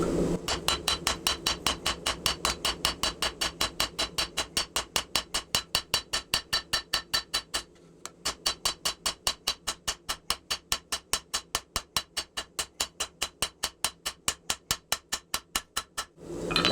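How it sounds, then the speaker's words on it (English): A cross peen hammer draws down a 5160 steel knife blank from thick coil spring, striking in fast, steady, ringing blows. The rhythm breaks once with a brief pause, then resumes at the same even pace, close and clear. "Now we're going to start drawing it down from top to bottom again using our cross peen."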